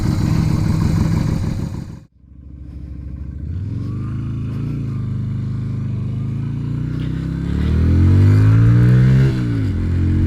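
A budget bobber motorcycle with a modified carburetor slide, ridden on a street: the engine cuts briefly, then pulls away with a rising, revving exhaust note that climbs through accelerations, loud and close throughout.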